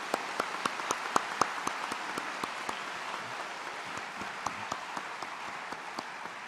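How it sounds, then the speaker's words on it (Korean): A church congregation at a Sunday evening service applauds in thanks to school principals and staff, a steady, moderately distant wash of clapping with a few sharper individual claps standing out. "우리 이 두 분 교장 선생님을 비롯해서 모든 우리 경양학원 교직원들에게 한번 우리 감사의 박수를 하겠습니다."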